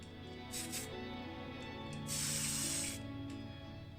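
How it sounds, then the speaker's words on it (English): Spray primer hisses onto a Matchbox 1979 Ford Cortina Mark IV die-cast model car in two short bursts, a brief puff and then a longer hiss, over a low steady background hum. "Coat of primer."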